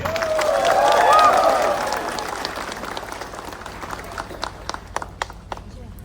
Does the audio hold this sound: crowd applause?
yes